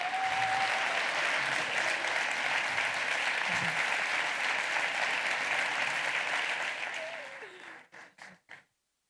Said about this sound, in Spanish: Así que os pido, por favor, un gran aplauso para Clara Strems.